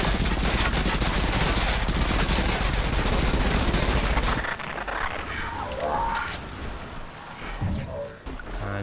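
Dense, loud gunfire from a weapon shooting down a drone in the ADACA video game, rapid bursts for several seconds, then dropping to quieter scattered shots over lingering game noise.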